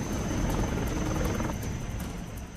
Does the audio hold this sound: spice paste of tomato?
no